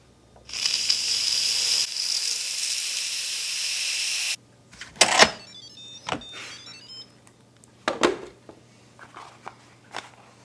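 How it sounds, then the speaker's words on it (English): An Instant Pot vents its steam during a manual pressure release after boiling potatoes, producing a loud, steady hiss for about four seconds that cuts off abruptly. A few scattered knocks and handling clicks follow. "do a manual release to release the pressure that's inside the Instant Pot"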